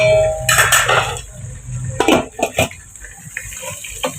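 Tender baby carrots being rinsed in water in a kitchen, with splashing and swishing bursts, clinks of a pot or utensils, and a low background hum between the washing movements.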